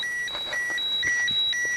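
A radiation meter beeps steadily in the former kindergarten at Chernobyl, giving a regular run of high electronic chirps about four times a second, close and clear over faint background noise.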